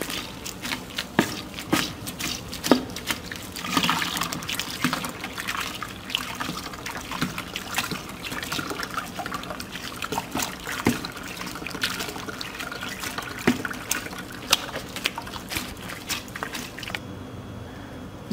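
Soaked oats are squeezed hard by hand, sending liquid trickling and dripping out in irregular spurts and drips, close and continuous, with no talking.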